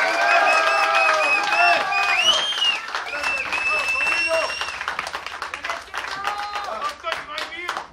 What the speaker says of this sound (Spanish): Así que un gran aplauso para ellos.